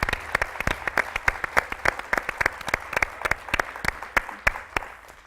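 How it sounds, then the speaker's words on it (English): An audience applauds for teachers at a school speaker series, a steady round of close, dense clapping that holds for several seconds with no talking. "I think we should give them a round of applause"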